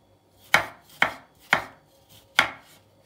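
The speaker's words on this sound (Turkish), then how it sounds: "İlk olarak kullanacağımız çilekleri dik bir şekilde keselim." A knife slices upright through fresh strawberries on a cutting board, four crisp, evenly spaced chops about half a second apart, close and clear in a quiet room.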